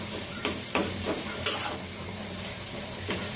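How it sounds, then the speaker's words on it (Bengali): Food fries in oil in a pan while being stirred, a constant sizzle broken by several sharp scraping strokes of the utensil at irregular intervals, close and clear with no talking. "ভালো করে ভেজে ভেজে নিব"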